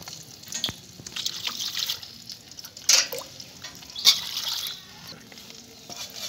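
A peeled bottle gourd is rinsed under running water, with irregular splashes, trickles and drips close by and a couple of louder splashy bursts.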